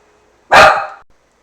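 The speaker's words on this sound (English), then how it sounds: "Juniper's a little white dog that I babysit. He heard something outside." A small white dog named Juniper lets out a single loud, sharp bark close by, a short burst with a quick tail, against a quiet room.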